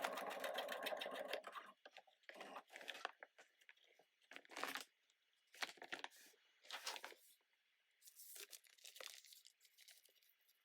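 A sewing machine stitches through a bag sewn from an upcycled seed sack slipped over the machine's free arm, with a steady motor run up front, then short bursts separated by pauses and crinkly rustling of the woven sack material.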